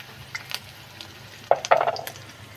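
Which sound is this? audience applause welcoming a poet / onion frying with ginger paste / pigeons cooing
onion frying with ginger paste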